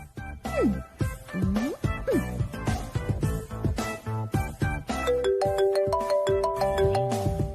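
A phone ringtone plays a bright, chirpy electronic melody over and over, loud and close, with no voices over it.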